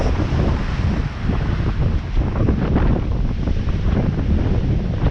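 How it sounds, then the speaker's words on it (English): Stormy sea waves crash and surge near North Pier on the Blackpool promenade, with strong wind buffeting the microphone in a loud, continuous roar throughout. "Look at the waves."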